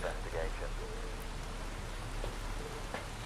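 Rain falling on the Tanglewood map in Phasmophobia, a steady soft hiss of drops on surfaces with a low rumble beneath, under quiet speech.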